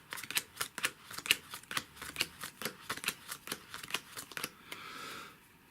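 Playing cards dealt from a game deck, six to each player, give a rapid, steady run of crisp snapping flicks that fades to a soft shuffle at the end, close and with no voices.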